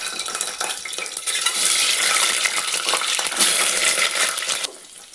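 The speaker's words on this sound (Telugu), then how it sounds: "ఇప్పుడు ఆయిల్ వేడయ్యాక ఎగ్స్ ఫ్రై చేసేసుకోవాలండి." Eggs frying in hot oil for an egg biryani, with a pinch of turmeric added, give a steady close hiss and crackle that holds for several seconds and then drops away abruptly near the end, with no talk.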